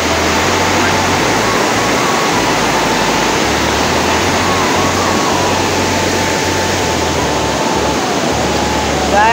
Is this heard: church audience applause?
no